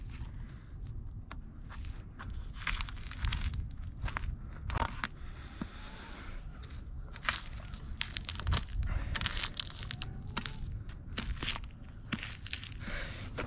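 A knife works along the backside of a white-tailed doe to free the tenderloin, making soft tearing, crackling and squishing sounds in irregular bursts, close by and fairly quiet.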